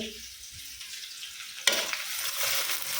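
Chopped onions fry in oil, browning in a pan: a steady close sizzle with a sharp stir or clatter midway that briefly raises the hiss, then continuous frying noise.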